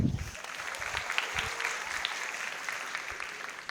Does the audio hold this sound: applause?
yes